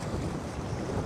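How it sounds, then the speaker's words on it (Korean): Strong, steady wind roars across an open coastline on a cold day, a dense continuous rush with gusty surges and low rumble filling the whole moment, no voices. "와 바람"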